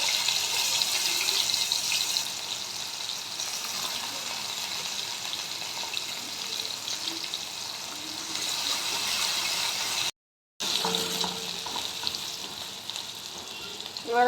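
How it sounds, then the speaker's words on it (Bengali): Garlic and onion fry in hot oil for egg paneer bhurji, giving a steady close sizzle with soft stirring and clinking, and a brief break partway through. "তেলটা গরম হয়ে গেছে, আমি রসুন দিয়ে দিলাম। এবার পেঁয়াজ দিয়ে দেবো।"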